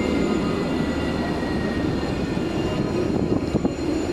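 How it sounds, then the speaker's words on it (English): A light rail train arrives in downtown Jerusalem, a loud, steady rumble of wheels and motors with faint high tonal whines and some clatter near the end, heard close by without speech. "The train are coming, the police are gonna get in position."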